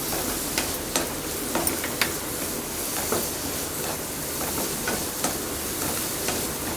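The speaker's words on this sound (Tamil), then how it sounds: "ஹை ஃப்ளேம்லேயே வச்சுட்டு லேசாக வதக்கிக்கோங்க" Carrot, beans and cabbage sautéing on a high flame for chicken fried rice, a steady broadband sizzle with scattered sharp scrapes and stirring clicks from a spatula, close and continuous with no talking.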